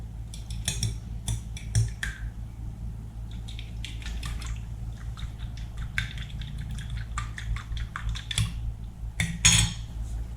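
Rhythmic clinking and scraping of a utensil against a bowl as minced meat filling for dumplings, with eggs, milk and salt, is stirred and mixed, with a low steady hum underneath.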